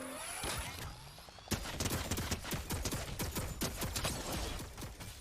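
Rapid, steady bursts of automatic turret fire in a video game, loud and continuous, with sharp repeated impacts forming a dense rattling rhythm after a brief quieter start.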